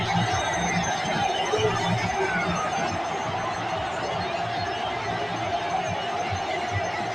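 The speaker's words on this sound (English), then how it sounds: "And they're all standing and admiring and applauding" A baseball crowd at the Oakland Coliseum stands and applauds: a broad, continuous roar of clapping and cheering that holds a steady, distant level for the whole stretch.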